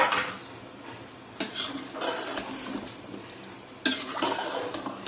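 Water is poured into a cooking pot of beef tikka masala and stirred, with a spoon scraping and clinking against the metal, two sharp knocks, a wet swishing sound and a faint sizzle, close up.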